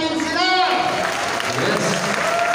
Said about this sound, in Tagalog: lahat ng riders club na nandito ngayon, palakpakan mo natin sila!